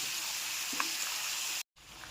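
Chicken with chili powder and turmeric sizzling in a pan as it is mixed, a steady close hiss with faint scrapes, cut briefly by a moment of silence before the sizzle resumes.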